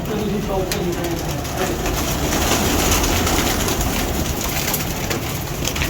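Pigeons coo steadily from a loft of kept birds, a dense continuous layer of soft calls with scattered wingbeats and rustling, close and loud, while voices talk over it.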